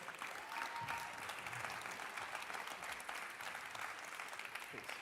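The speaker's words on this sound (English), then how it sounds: "Please give them a big round of applause" An audience at an entrepreneurship conference gives a big, sustained round of applause, a steady full wash of clapping from a crowd throughout.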